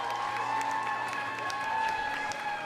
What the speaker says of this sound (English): The Canadians applauding the fans here at Twin Elm Rugby Park.